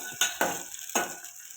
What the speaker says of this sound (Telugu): దాని తర్వాత మనం టమాటాలను, కట్ చేసిన మిరపకాయలు అవన్నిటిని ఫ్రై చేసుకోవాలి